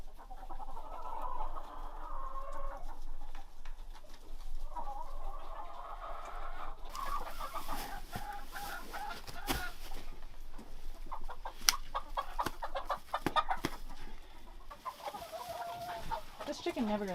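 Backyard hens cluck and murmur around their coop, with several clucks overlapping through the stretch and one or two sharper squawks standing out.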